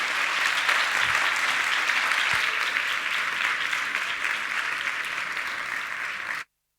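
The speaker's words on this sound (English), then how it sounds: "a big round of applause for Garrett's awesome keynote." Audience applause following a keynote at a games day tech event, a dense, even roar of many hands clapping that holds steady and then cuts off abruptly.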